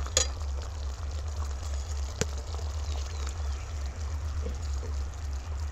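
Water poured into a simmering cabbage curry gravy in a pan, a faint steady trickle and bubbling hiss over a low hum, with one sharp clink partway through.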